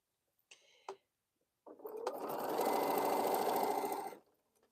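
A sewing machine stitches quilt squares in one fast, steady whirring run lasting about two and a half seconds, close by. A couple of small clicks from handling the fabric come just before it.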